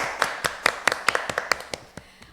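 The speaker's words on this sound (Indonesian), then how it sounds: "kita beri tepuk tangan dulu Mbak Kaila." A small group at an Indonesian podcast recording gives a short burst of applause, with a dozen sharp, distinct claps close by and no talking.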